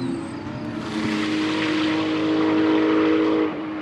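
Porsche GT race cars at Val de Vienne circuit roar past in a loud, sustained engine blast that rises and holds before dropping off near the end, with no talk.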